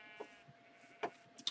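Goats bleat in a video game: short, scattered bleats, some near and some farther off, fairly faint over a steady background tone, with no talking.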